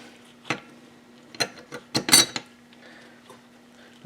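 Friction plates for a kids ATV centrifugal clutch are stacked, giving a handful of sharp metallic clinks and clacks spaced irregularly, with a cluster of rattling contacts in the middle, close and alone.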